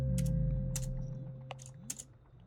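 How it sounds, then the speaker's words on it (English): Quiet keyboard typing in the video game Psycho Patrol R: a few scattered, separate key clicks over a low steady hum, with no talking. "I can type in Hackman"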